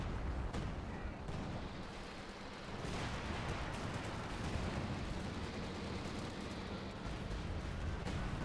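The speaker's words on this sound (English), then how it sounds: "I think that's a cannon bomb? Yep, that is." Cannon bomb blasts and battle fire in the Company of Heroes strategy game, USF against British forces, making a dense, continuous roar of explosions and gunfire at a low overall level.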